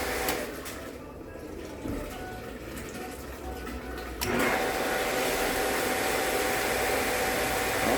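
A multistage motor pump, back in service after maintenance, hums quietly and then switches on with a sudden step into a loud, steady whirring drone that continues to the end.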